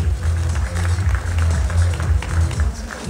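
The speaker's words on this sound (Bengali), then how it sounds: "সবাই আরেকটু জোরে একটা করতালি দিই প্লিজ" An audience applauding at a brand ambassador announcement event, with dense, sustained clapping and crowd noise at a loud, even level throughout.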